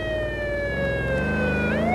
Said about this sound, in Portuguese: Viatura especial subindo na favela.